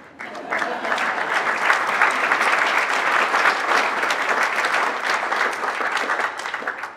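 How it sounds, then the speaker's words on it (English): Diners at a panel dinner applaud the panelists, a sustained round of many hands clapping that swells after a soft start, holds steady and tapers slightly at the end, heard from within the room. "So one more round of applause for Rachel, but not for Rachel, Gabrielle, and Rachel."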